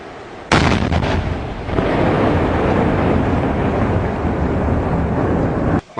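60mm mortars fire from a bunker position, a sudden loud blast followed by a sustained heavy roar and rumble filling the space, with another sharp burst at the very end.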